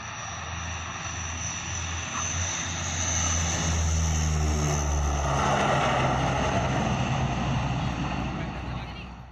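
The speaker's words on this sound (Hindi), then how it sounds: "हवाई पट्टी पर फाइटर जेट उतारने और टेक ऑफ करने की तैयारियों" Military aircraft, including fighter jets, operate over an expressway airstrip during a touchdown and take-off exercise, a loud continuous engine roar that swells toward the middle and then holds, with a voice talking over it.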